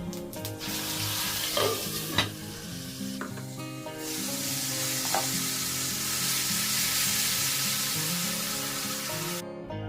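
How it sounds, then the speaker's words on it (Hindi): Cumin seeds and masala frying in mustard oil, a dense, even sizzle that swells after a few seconds, with a few soft knocks from a spoon at the start and no voices. "सरसों का तेल चढ़ाया है, इसमें डाला है जीरा और डालूंगी मसाला।"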